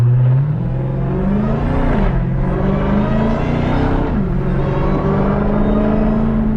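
Dodge Hellcat with a B Woody intake, its supercharger whine rising and falling in pitch with revs over a loud rumbling engine, two throttle blips close up with no talking.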